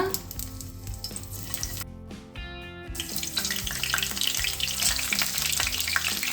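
Stuffed brinjal frying in hot oil for an oil-fried eggplant curry, a loud continuous sizzle with a brief quieter gap before it swells again, no voices.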